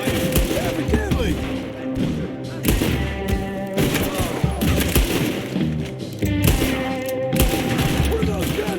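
Gunfire in Red Dead Redemption 2 cracks out in repeated bursts and scattered single shots, mixed with thuds and game music, with voices talking over parts of the fight.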